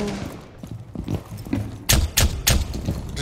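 Shotgun blasts in a video game: three loud, close booms about a third of a second apart, preceded by softer scattered footsteps and movement noise.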